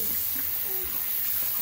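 Tap water runs steadily while someone washes their face, a constant hiss with no break from start to finish.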